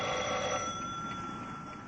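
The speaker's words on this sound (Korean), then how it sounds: "신호지기가 전화를 받았어요." A telephone rings in a railway signal box, a steady bright electric bell that sounds continuously for two seconds, close and fairly loud, with no talking.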